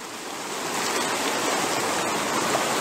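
A river rushes steadily close by at a canyon prospecting dig, a dense, even roar of flowing water that holds constant throughout with no voices.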